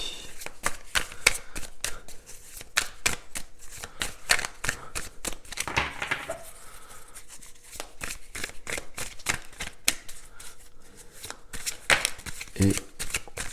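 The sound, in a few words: handling and shuffling Barbara Moore tarot cards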